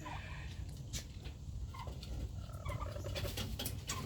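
A backyard flock of chickens, including a Rhode Island Red hen, clucks and murmurs in a busy overlapping chatter, with scattered sharper calls and scratching over a steady background noise, no human voices.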